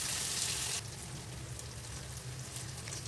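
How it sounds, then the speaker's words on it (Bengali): Half-boiled potatoes fry among spices with ginger for a cabbage dish, a close continuous sizzle that is brighter at first, then settles into a softer steady crackle. "সমস্ত মশলার মধ্যে আলুটা দিয়ে আলুটা একটু কষিয়ে নেবো"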